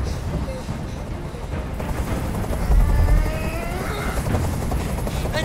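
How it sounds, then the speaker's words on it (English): A helicopter hovers overhead in the video game Detroit: Become Human, a loud, steady rotor drone with deep low rumble that swells briefly near the middle, heard alone. "I can't stand that noise anymore. Tell that helicopter to get out of here."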